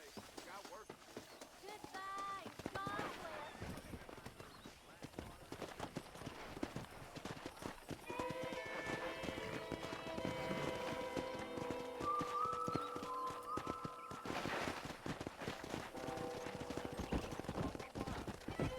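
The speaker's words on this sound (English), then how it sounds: "Let's see if we can't wrangle some horses." Video game (Red Dead Redemption) horses: hooves clatter in a rapid galloping rhythm with occasional whinnies, while someone talks over the busy outdoor commotion.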